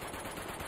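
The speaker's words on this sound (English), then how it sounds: "So much gunfire." Rapid gunfire from the Uncharted 2: Among Thieves video game, a dense continuous burst of shots filling the whole brief moment with no talk over it.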